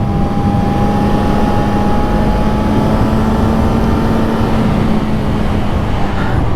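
A 2024 Suzuki GSX-S1000 motorcycle engine during a wheelie attempt gives a steady, loud drone with a constant pitch, blended with heavy wind rush throughout.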